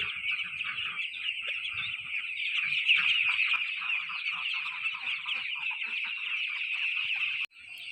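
Broiler chickens kept for meat crowd a coop, a dense continuous chorus of clucking and chirping from many birds, steady and fairly loud throughout with no voices.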